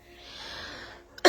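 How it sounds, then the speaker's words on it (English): A single sharp cough bursts out at close range at the very end of a quiet meditation session, after a soft breathy hush. "I'm sorry I'm going to have to cough sometimes"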